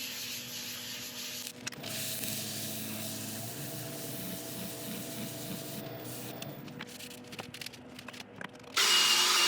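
Abrasive paste worked onto a wood burl spinning on a lathe: a faint scuffing rub over the motor's low steady hum with rhythmic pulsing, then scattered clicks and a sudden louder hiss at the end, no talking.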